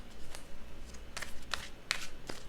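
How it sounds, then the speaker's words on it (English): Tarot cards being shuffled by hand in a few separate riffling bursts, soft and close, with faint room background and no talking. "Let's shuffle these cards for you and see what's happening."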